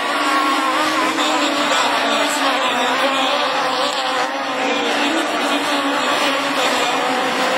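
Super 1600 rallycross race cars at a Châteauroux round, their engines making a loud continuous high-revving roar and buzz as they lap on the final circuit, steady throughout.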